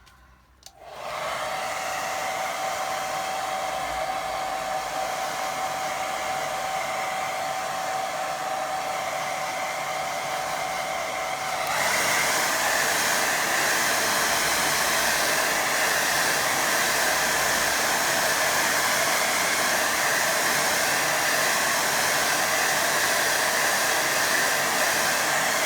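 Hair dryer blowing on a watercolour painting of a distant lake, a loud steady whooshing roar that runs throughout and shifts to a stronger, harsher setting partway through, with no talking.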